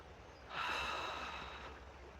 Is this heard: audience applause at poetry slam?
no